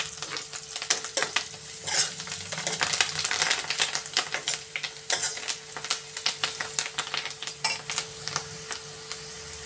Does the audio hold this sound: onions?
yes